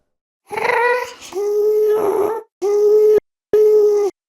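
A reversed Minecraft ghast moan, eerie, plays in four segments, wavering then cutting off abruptly, loud and close with brief silences between the last swells.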